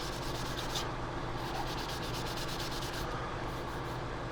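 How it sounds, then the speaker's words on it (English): Close, steady rubbing of sandpaper on the plastic hull of a Revell 1/700 Colombo Express container ship model, a continuous dry hiss with faint rhythmic strokes. "Probably should be doing all this sanding after I've got it."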